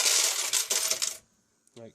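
Pound coins are tossed into the hopper of an Astra Reel Stampede slot machine: a dense, bright metallic clatter of coins for just over a second, then quiet, then a short final rattle.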